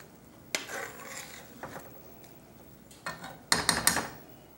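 Stirring a hominy and chili casserole in a pot, with a few scraping strokes early on and a louder run of clinking, scraping spoon strokes near the end, close by with no talk.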